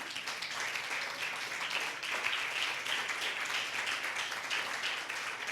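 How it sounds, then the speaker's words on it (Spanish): A Spanish-speaking church congregation claps steadily in a dense, even wash of applause that holds at a moderate, somewhat distant level throughout, with no single claps standing out. "Denle un fuerte aplauso al Señor"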